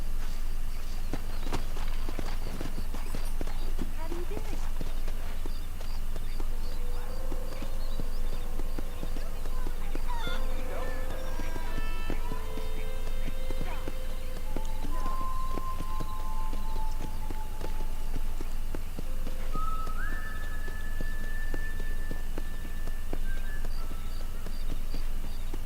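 Video game horse hooves clip-clop steadily as a rider travels along, set beneath a constant wash of in-game ambience and music.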